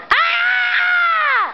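One person gives a single loud, sustained scream lasting over a second, close and unbroken, then cut off abruptly.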